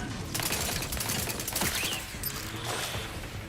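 Turret gunfire rattles in the video game Outer Worlds 2 as a fast, dense burst of shots over busy game noise, fairly loud and continuous for a few seconds, with no talking.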